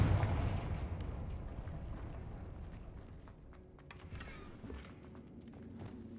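Fiery Confringo blast spell from the Hogwarts Legacy video game: a loud booming burst at the start, then a long rumbling decay with scattered crackles and debris pops, no voices.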